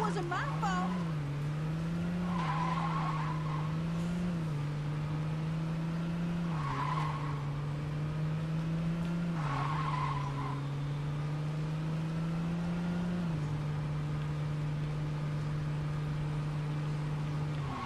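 A car driven in Saints Row 2 hums with a steady engine drone and occasional skids or squeals, continuous and fairly loud, while a voice talks over it.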